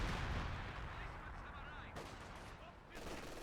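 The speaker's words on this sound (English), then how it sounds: "He's launching barrage." Artillery barrage in Company of Heroes 2, a continuous rumbling wash of distant booms and gunfire under faint voices, with a few sharper impacts breaking through.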